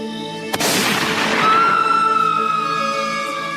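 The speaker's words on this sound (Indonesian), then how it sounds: "Ending ceritanya tiba-tiba ada tembakan di kamar." A single gunshot goes off in a room in a dramatic reality series. It is one sharp, loud crack followed by a ringing tail over sustained background music.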